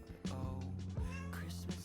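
A house cat meows several times indoors, each call clear and fairly close, with short pauses between them and no talking.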